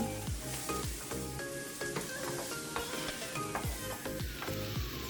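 Continuous loud sizzling of vegan meatballs, mushrooms, onions and garlic sautéing together in a pan, with occasional scraping stirs and clinks, close and steady.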